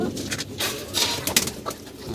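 Pigeons coo close by in a loft, repeating soft throaty calls with a few faint rustles between them.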